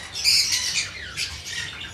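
A parblue dilute opaline pet parrot lets out shrill, raspy squawks in two close bursts, loud and near, with no voices over them.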